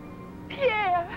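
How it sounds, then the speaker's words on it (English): A cat in a 1960 film gives a single clear, drawn-out meow close up, a rising then falling wail over a faint background hum; someone calls out a name just before it. "No, it's a kitty cat."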